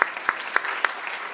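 Brief applause from an audience at a children's literature conference, a handful of sharp claps rising from a soft, steady patter, fairly distant and heard alone.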